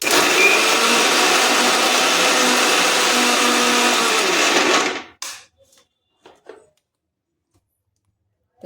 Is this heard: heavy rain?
no